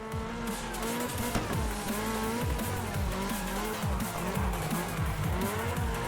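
In the racing game Wreckfest 2, a car drifts under handbrake, its tires squealing and skidding over a loud, continuous engine whose pitch rises and falls through the slide.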